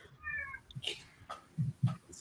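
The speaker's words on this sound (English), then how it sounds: "Oh, I hear a cat." A cat meows a few times during a film watch party call, short nasal cries heard faintly over soft background noise and murmuring voices.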